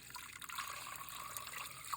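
Water pours into a fresh cooking pot as turkey wings are being made, a soft continuous splashing trickle, close and fairly quiet, without speech.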